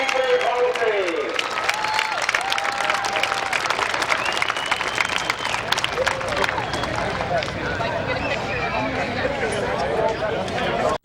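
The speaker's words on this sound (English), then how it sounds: "how about a big round of applause for your 6th class in 2021 for the Midvale Speedway Hall of Fame" A grandstand crowd claps and cheers continuously at the Midvale Speedway Hall of Fame ceremony, dense sustained applause mixed with crowd noise and a voice on the public address.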